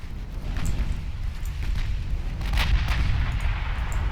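Naval shells striking a battleship in the game Ultimate Admiral Dreadnoughts, a dense run of deep rumbling impacts and booms rolling together into a steady, loud barrage with no pauses.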